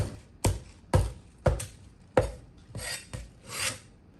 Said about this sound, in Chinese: 准备1小块生姜，去皮切成薄片